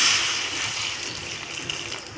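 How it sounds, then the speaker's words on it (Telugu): Water pours into a pot of green chillies set to boil for gongura chutney, making a continuous close splashing rush that eases off slightly toward the end. "పచ్చిమిరపకాయలు తీసుకున్నానండి, దాంట్లో కొన్ని వాటర్ వేసి ఉడకబెట్టుకోవాలి."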